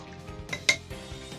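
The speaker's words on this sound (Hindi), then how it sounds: "डालकर इसे हम अच्छी तरह मिला देंगे।" A spoon scrapes and clinks against a metal pressure cooker as khichdi with turmeric and salt is stirred, with a couple of sharper taps.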